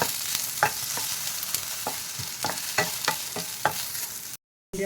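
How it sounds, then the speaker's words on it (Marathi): Chopped okra roasting in a pan with oil, a steady crackling sizzle broken by repeated spatula scrapes and taps at an uneven rhythm, close and clear, with a brief dropout near the end. "ही चांगली भाजून घ्यायची जरा तेल सोडायचं म्हणजे लवकर भाजते"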